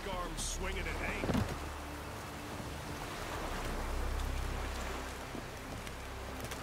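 Steady heavy rain in The Witcher 3: Wild Hunt hisses across the whole clip with a low rumbling bed underneath, dense and continuous, with a faint brief clatter near the start.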